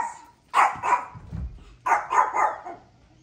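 A dog barks during fireworks in two short bursts of two or three barks each, close and loud, with a low rumble between them.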